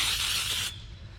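A single short hiss of Pam baking spray from an aerosol can, coating a pan for croissant dough, lasting well under a second and then cutting off.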